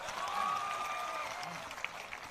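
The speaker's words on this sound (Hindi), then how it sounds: "इनके लिए ताली बजाइए जोर से।" A crowd applauds steadily at the Jan Suraaj party launch event, a dense wash of clapping heard from some distance throughout with faint voices underneath.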